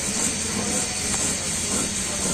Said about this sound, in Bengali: এই যে কচু পাতা দিয়ে শুটকিটা ই করা হচ্ছে, ভাজা হচ্ছে আগে